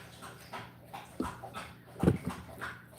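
A dog whimpers indoors in short, soft whines and yips, close but fairly quiet, with a few light thumps in between.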